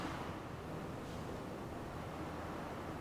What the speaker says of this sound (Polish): Znowu się zerwał wiatr.